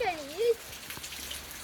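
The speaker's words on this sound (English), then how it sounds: "raining over here" Rain falls outdoors with a soft, steady patter, preceded by a brief high whistling chirp at the start.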